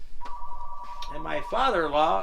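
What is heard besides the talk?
telephone ringing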